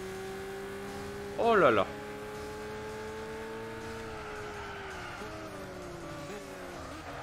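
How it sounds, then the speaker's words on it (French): A car engine roars steadily in Gran Turismo 6, heard from the interior view, with a sustained drone whose pitch rises and wavers slightly as it accelerates, while a man briefly exclaims over it. "Oh le moteur. Oh le bruit."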